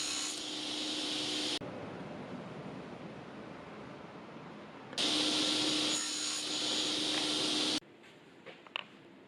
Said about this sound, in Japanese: 小窓用のアクリル板をカットしていきます。